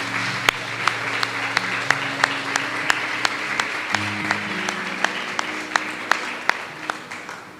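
A group claps along in a steady, even rhythm, crisp hand claps repeating over a low background hum.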